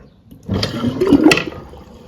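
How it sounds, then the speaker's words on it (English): Fresh water gushes from a tap for a second or so, starting abruptly, close by and fairly loud, then it tapers off. "So what I'll do, I'll run some fresh water."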